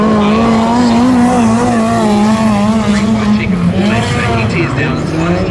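A midget race car at a speedway roars close and loud with a steady, sustained engine drone, its pitch rising and falling as it takes the turns under continuous commentary.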